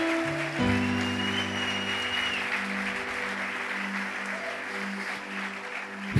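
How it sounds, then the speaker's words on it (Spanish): A church congregation applauds steadily and continuously under a sustained organ or keyboard chord, the clapping dense and even throughout, swelling slightly at the end. "Dale un aplauso fuerte a Él."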